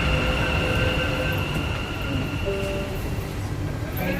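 A metro train pulling in and running past, a steady rumbling roll with faint high wheel and brake squeals and tonal whines, close by and continuous with no voices.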